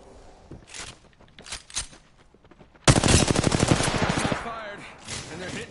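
Rapid automatic gunfire in Apex Legends rattles out in a dense, loud burst after some scattered shots and footsteps, then trails off under game sounds.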